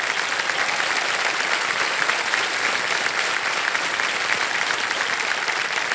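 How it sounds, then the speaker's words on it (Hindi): A studio audience on a television quiz show applauds steadily, with dense, even clapping that holds at a constant level from start to finish and no talking over it. "तालियां बज जाएं उनके लिए"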